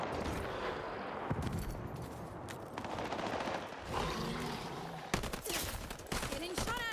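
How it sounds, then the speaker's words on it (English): Gunfire in the online video game Final Fantasy XIV, Highguard mode: repeated bursts of automatic shots and impacts, moderately loud, continuing throughout, with sharper bursts toward the end. "Getting shot at here."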